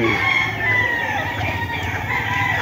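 Rooster crowing amid a noisy game farm yard, with other fowl clucking and a steady background din throughout.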